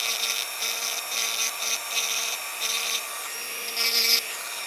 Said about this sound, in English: I think what I'm going to do is use my Dremel this time just to do it a little bit faster